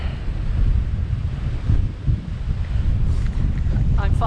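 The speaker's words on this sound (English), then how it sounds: "The wind was so forceful today" Forceful wind on a wet moorland gritstone edge roars steadily across the microphone in a heavy, low rumble, with faint vocal sounds near the end.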